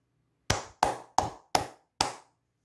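Five sharp hand claps ring out alone in a quiet room, evenly paced at roughly a third of a second apart, each with a short decaying tail.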